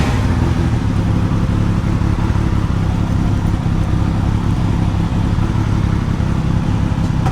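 A motorcycle engine running steadily during a ride, a loud continuous low rumble mixed with wind noise, constant and close throughout with no talking.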